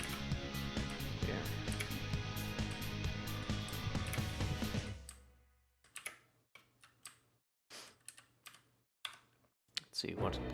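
Computer keyboard typing, rapid dense clicking at first, then sparse separate keystrokes alone against quiet background; speech is present.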